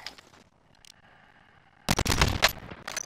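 Gunfire in the Modern Warfare Warzone video game: a few faint early shots, then a sudden loud, close burst of rapid automatic fire crackling for about a second with further trailing shots.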